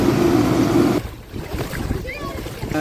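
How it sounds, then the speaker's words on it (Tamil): Flood water rushes loudly through a street near a flooded teaching hospital in Jaffna for about a second, then drops to a quieter wash with faint background sounds. "பாருங்க இப்படி தண்ணி ஓடிக்கொண்டிருக்குன்னு"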